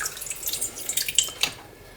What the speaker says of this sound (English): To start the hot sauce off, I'm going to add a little bit of water